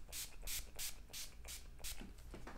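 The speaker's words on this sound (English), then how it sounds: "and just spray it all over." Body Shop Vitamin E face mist sprayed toward the face in a series of about six short, hissing bursts at a steady rhythm, close and fairly soft, with no talking.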